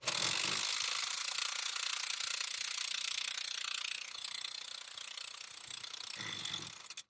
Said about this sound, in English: put it on this electric torque. All right, so we're gonna run it. We're gonna run it on in with this.